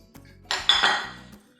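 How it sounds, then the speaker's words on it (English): Vegan dry fruit cake batter with neutral vegetable oil is whisked in a bowl, a short burst of rapid metallic clinking and scraping lasting about a second, close and fairly quiet, with no talking. "I'm going to whisk that again."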